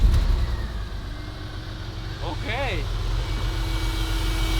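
A Porsche 911 engine idles with a steady low rumble throughout after cranking, while a person speaks briefly over it.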